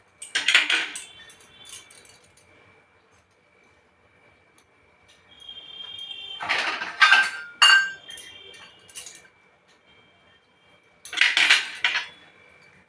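A fork clinks against a bowl while fried chicken pieces are handled in a home kitchen, in sharp metallic bursts separated by quiet pauses, close and fairly loud.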